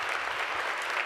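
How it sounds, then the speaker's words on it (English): An audience applauds researchers at a research and advocacy forum, a brief, steady wash of clapping heard from a distance. "Please give these incredible researchers another round of applause."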